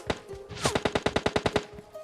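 Rapid automatic gunfire in PUBG Mobile, about a dozen sharp, evenly spaced shots cracking in a quick burst after a single lead shot, loud and close with no talk over it.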